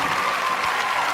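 Brief burst of crowd applause from an audience at an MC event, a steady wash of clapping that is loud and even over its short span.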